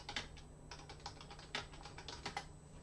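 Quick clicking keystrokes on a computer keyboard while a terminal command is typed in Linux, irregular taps with a few louder presses, close and alone over a faint steady hum.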